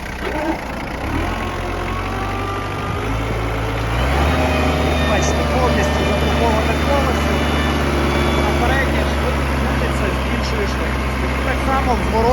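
A used Kubota GT-3 mini tractor engine idles steadily, its low hum lifting in load and pitch partway through as the machine pivots in place, with talk over it throughout.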